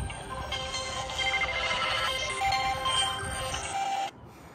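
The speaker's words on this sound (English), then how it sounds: "And my phone is going." A mobile phone rings outdoors with a steady electronic ringtone, fairly loud and continuous for about four seconds before cutting off abruptly.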